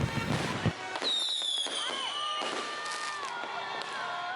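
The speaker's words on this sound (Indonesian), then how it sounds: "Antusias warga pun terlihat saat ledakan kembang api di udara yang membuat warga bersorak-sorai." Fireworks burst in the sky at a New Year's Eve celebration in Indonesia: a loud crackling explosion, then whistling, screeching rockets and further sharp pops ringing out over the outdoor crowd.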